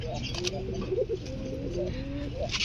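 A blue satinette pigeon coos softly in a series of low, wavering notes, faint and close, with some light background noise around it.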